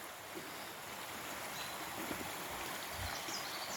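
A nearby waterfall at a wilderness campsite around dusk, producing a constant, broadband rushing hiss of flowing water, fairly quiet and steady with no talking.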